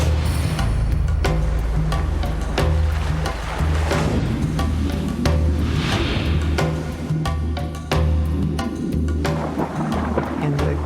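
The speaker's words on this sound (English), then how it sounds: "I was hearing waves breaking on something" Heavy surf breaking at sea, a loud continuous low roar with repeated surges and crashes running throughout, close and dominant with no voices.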